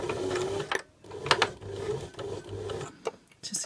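A domestic sewing machine back tacks at the start of a centred zip seam at a regular 2.5 stitch length, with short bursts of rapid mechanical stitching broken by brief pauses, close and fairly loud.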